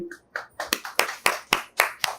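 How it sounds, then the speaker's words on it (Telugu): Children at an Anganwadi preschool clap together in a quick, steady rhythm of about eight sharp, close claps, with a brief voice at the start. "అందరూ చప్పట్లు కొట్టండి."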